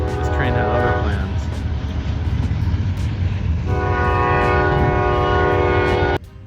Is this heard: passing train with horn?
yes